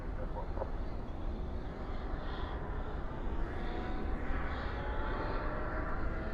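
An airliner departing DFW airport at night, a distant, steady jet roar with a faint rising whine, heard at low level outdoors with no one speaking.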